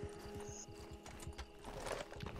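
Hooves of a horse herd gallop in the Red Dead video game, a quick steady clatter running faintly but continuously under a low mechanical hum, with no voices.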